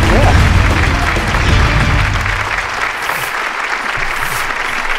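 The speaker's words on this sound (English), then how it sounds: "let's give him his round of applause." A studio audience at a firearms talk show breaks into loud, dense applause that swells at the start and gradually thins out, with no voices over it.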